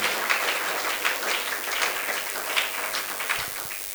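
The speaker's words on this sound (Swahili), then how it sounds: "kushangilia juu ya utukufu ya Mungu" A church congregation claps together in praise, a continuous rippling applause with a few louder swells, heard from within the crowd.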